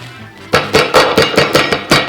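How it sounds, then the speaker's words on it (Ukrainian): Repeated blows of a meat mallet pounding salted and peppered veal slices flat for cutlets, six sharp thuds at a steady rhythm, close and loud, with no talking. "А тепер робимо те, що ми робимо, коли готуємо карманадлі відбиваємо молоточком"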